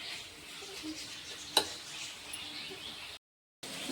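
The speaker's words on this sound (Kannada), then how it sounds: "ಇವಾಗ ಇದು ಇಷ್ಟು ನೀಟಾಗಿ ಎಣ್ಣೆ ಒಳಗೆ ಫ್ರೈ ಆಗಿ" Eggplant fries in oil for a dry eggplant palya with a faint, steady sizzle. One sharp click stands out partway through, and a brief dropout cuts the sound near the end.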